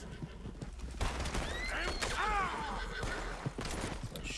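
A horse in Red Dead Redemption 2 lets out a loud falling whinny with hoof clops around it, while a voice briefly comes through in the game-audio mix.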